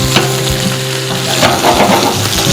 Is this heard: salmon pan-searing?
yes